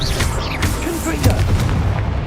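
Confringo blasting spell explosions in the Hogwarts Legacy video game, heavy booming blasts layered over a dense, continuous rumble of game effects, with a stronger burst near the middle.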